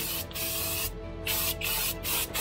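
Steady hissing bursts of gray aerosol spray paint onto a plastic Star Wars model kit, five short sprays separated by brief pauses, close and fairly loud.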